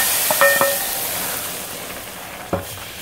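Cumin tempered in hot butter sizzles with a soft hiss before going into chickpeas, punctuated by a couple of brief clinks from a spoon or pan early on and again near the end.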